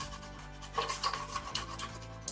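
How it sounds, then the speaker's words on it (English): Wax being rubbed by hand onto a wooden box, a close, steady dry rasping in short repeated strokes, fairly quiet and with no talk. "you just have to rub the wax"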